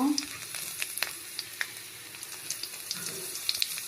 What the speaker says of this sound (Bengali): রসুন খুব বেশি ভাজবো না, হালকা ভাজবো, সর্ষের তেলে হবে ভাজাটা।